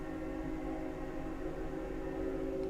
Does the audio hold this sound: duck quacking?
no